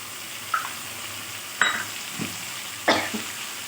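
Ginger paste added to softened tomato frying in a pan, with a few sharp spoon scrapes and sizzling bursts spaced about a second apart over a quiet background.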